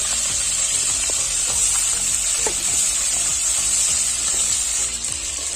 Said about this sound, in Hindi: ये हमारा मछली को देखिए जो साइज बड़ा होते जाता है जैसे आप डालेंगे इसे तेल में